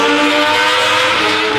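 Race vehicles on the Cremona circuit give a loud, sustained engine note with a rich harmonic drone, holding nearly steady throughout.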